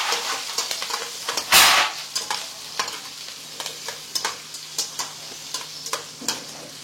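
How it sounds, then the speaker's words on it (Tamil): Onions sautéing in a pan, with a soft, continuous sizzle under repeated scraping and stirring strokes, nearby, including one louder burst of hissing early on. "வெங்காயத்தை ஆட் பண்ணிக்கலாம். வதக்குன்னு வதக்கிடுவோம்."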